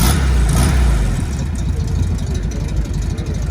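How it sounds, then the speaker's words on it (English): An air-cooled Volkswagen Beetle engine catches and settles into a steady, loud, close idle with a low rumbling throb, sounding alone after a brief surge at the start. "Yep, sounds like a Beetle."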